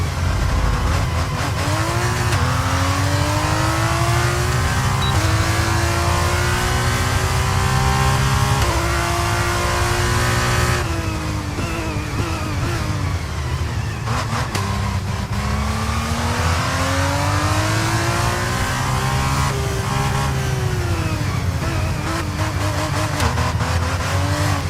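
A single-seater race car in EA F1 2023 screams through its gears at full throttle, a loud continuous engine whine rising and dropping with each shift and corner, with faint tyre noise underneath.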